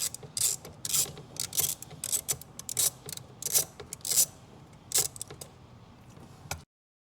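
A ratchet on a long extension loosens a hose clamp on a 4th-generation Ram's intake, giving rapid close metallic clicking in repeated bursts, then a sudden stop into silence.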